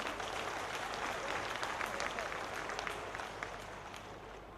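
Applause from the crowd at an outdoor political rally with Chief Minister Shivraj in Niranjpur, Sanwer; steady, dense clapping from many hands holds at moderate level, then eases slightly toward the end, heard from within the gathering.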